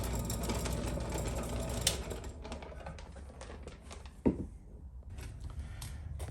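A Harbor Freight Chicago Electric rock tumbler motor runs in a home garage shop, a faint steady mechanical hum with light rattling and a sharp knock partway through.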